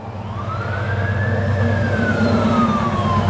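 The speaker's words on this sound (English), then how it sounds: "every emergency response vehicle in this neighborhood has been flying past here for the last 15 minutes" A fire engine siren wails as emergency vehicles pass through a neighborhood, loud and close. A single rising-then-falling tone sweeps over a deep truck engine rumble, with no talk.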